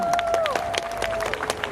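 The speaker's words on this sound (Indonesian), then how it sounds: "Tepuk tangan dong." A crowd at a public speech event breaks into steady applause, with rapid clapping and a faint tonal ring underneath, moderately loud and continuous.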